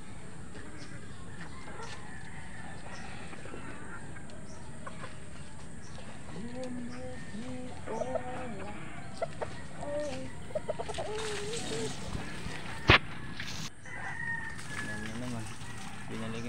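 Chickens cluck and murmur close by over a steady background hum, with scattered short calls and one sharp knock near the end.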